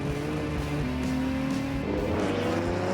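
A car driven by a 78-year-old man is carried at high speed into a corner, its engine droning loud and steady with a shifting pitch as it presses through the bend.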